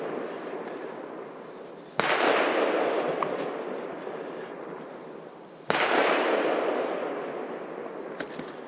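Two loud, close rifle shots from a 300 PRC firing 250-grain Hornady A-Tip loads into ballistics gel, each a sharp crack followed by a long rolling echo that fades over several seconds, with no talk.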